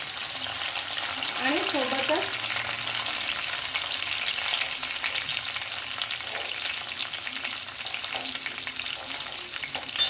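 Green chillies tossed into onions frying in a pan for a Maharashtrian moth bean usal, a steady close sizzle with ongoing stirring scrapes and brief faint voice-like sounds.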